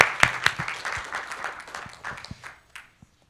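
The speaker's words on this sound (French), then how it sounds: "On va applaudir Sébastien à nouveau pour cette présentation." A seminar audience applauds the presenter Sébastien, a burst of clapping that starts fairly strong and thins into scattered claps before dying out within three seconds.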